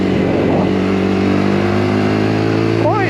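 Lexmoto LXR 125 motorcycle engine droning loudly and steadily while riding, with a brief rise in pitch near the end.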